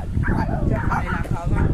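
Dogs bark and yip excitedly close by, overlapping with people talking at the same time.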